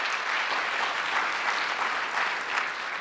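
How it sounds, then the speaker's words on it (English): Audience applause at a public health summit, a steady dense wash of many hands clapping together, continuous and fairly loud for the whole stretch with no voices over it. "Nice round of applause for her."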